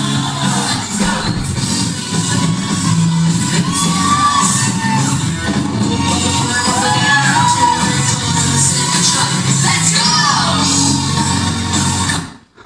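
A crowd of about 800 people cheering and shouting in continuous loud waves, with whoops and children's yells over the roar, played back from a video and cutting off abruptly at the end.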